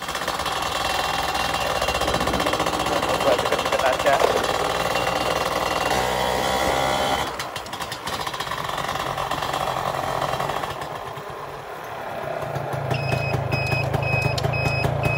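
A Yamaha F1ZR 110cc motorcycle engine runs loud and close with light throttle revving, a steady buzzing drone that dips briefly twice before rising again, and a few high electronic beeps near the end.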